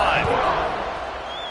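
A football stadium crowd at an FSU versus Clemson game roars in a broad, sustained wash of cheering after a kickoff, loud and distant-sounding, with a brief whistle-like tone near the end.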